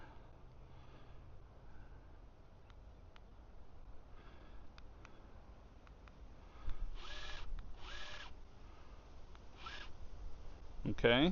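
Minn Kota trolling motor trim motor running on a boat, a faint electric whirring that swells in several short bursts, with a brief spoken word near the start.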